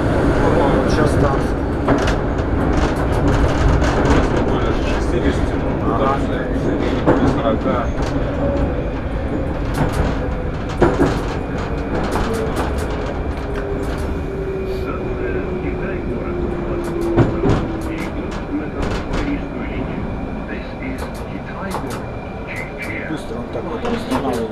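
Moscow metro 81-765 train running loud with a steady rumble and rising-falling motor tone, then braking to a stop; people talk over the noise.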